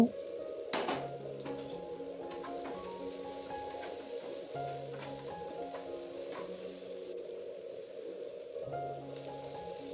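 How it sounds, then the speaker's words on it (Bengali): Onions fry in hot oil in a pan for a fish roe and radish dish, giving a continuous close sizzle with small crackles and pops that holds steady the whole time. "আমি পেঁয়াজটা অল্প লাল লাল করে ভেজে নেবো"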